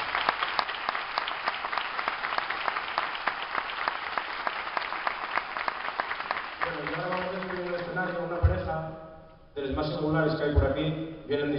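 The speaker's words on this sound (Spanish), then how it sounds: "Vamos a darles un fuerte aplauso para la juventud." Sustained audience applause at an end-of-year music concert in honor of young bagpipe players, dense clapping for several seconds before it gives way to a tuneful melody and a voice.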